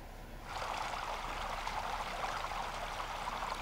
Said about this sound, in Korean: 도움되시라고 폭포 소리 좀 깔아봤습니다